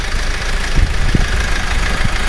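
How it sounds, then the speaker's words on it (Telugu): A car engine just started and idling out on the salt flats of the Rann of Kutch, a steady close rumble with a few soft knocks and thumps, no voices. "ఇప్పుడు స్టార్ట్ అయింది ఇంజన్"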